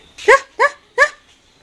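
A dog barks three times in quick succession, loud and close, each bark short and evenly spaced, with quiet between.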